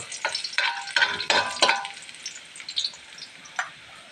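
Onion and garlic saute in hot oil for pancit, with bursts of bright sizzling and spatula scrapes as the pan is stirred, loud at first, then tapering into quieter intermittent crackles.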